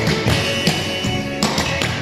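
Clogging dance steps, a rocking chair step alternating with fancy doubles, give repeated crisp taps and thuds of shoes on the floor in a steady rhythmic pattern, close and fairly loud, with no voices.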